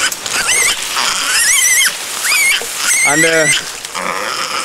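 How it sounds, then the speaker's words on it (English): Pig carried outdoors on a Pacific island, squealing in loud, shrill, wavering cries repeated several times close up, with a brief spoken word mixed in. "And it's very noisy, a pig."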